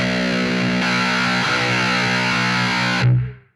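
A heavily distorted electric guitar blended with about a quarter of Boss HM-2 buzzsaw tone, a thick sustained chord ringing loud and dense before being cut off and decaying.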